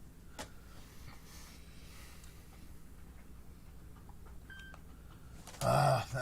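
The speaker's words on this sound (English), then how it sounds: "That was my phone." A mobile phone sounds a short, loud, tonal ring or alert burst near the end, breaking a long stretch of quiet room background.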